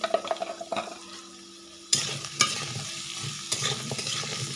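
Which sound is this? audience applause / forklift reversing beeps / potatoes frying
potatoes frying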